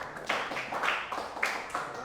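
Hands clapping together in a classroom, a brief round of applause in scattered bursts at moderate volume, with faint voices mixed in.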